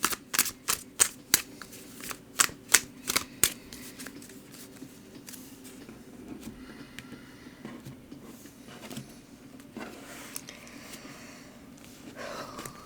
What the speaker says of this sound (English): So I'm going to go ahead and shuffle the cards.